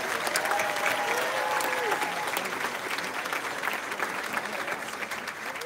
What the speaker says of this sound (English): Big round of applause for our Father Pius.